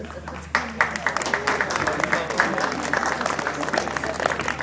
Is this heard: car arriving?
no